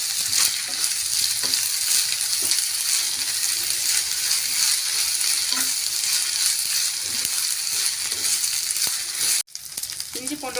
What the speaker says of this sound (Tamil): இஞ்சி பூண்டோட பச்சை வாசனை போகிற வரைக்கும் வதக்கி விட்டுக்கலாங்க.